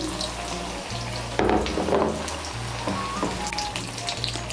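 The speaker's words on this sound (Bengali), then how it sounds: "ব্যাটারের মধ্যে এভাবে ডুবিয়ে গরম তেলে দিয়ে দেব।" Batter-dipped stuffed ash gourd fritters sizzle in hot oil, a steady close crackling hiss with a brief louder burst as a fritter goes in, no talking.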